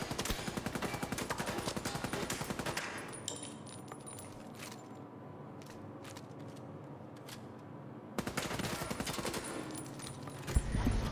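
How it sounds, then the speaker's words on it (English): Rapid submachine gun bursts in the video game The Division 2, a dense run of sharp shots, then a lull of scattered quieter reports before another heavy burst of fire closes it out. "burst them with the submachine gun"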